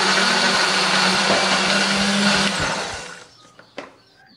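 An electric blender grinds a paste of candlenut, garlic, shallot and coriander with a little water, a loud steady whirring motor that runs for about three seconds before winding down, followed by a couple of faint clicks.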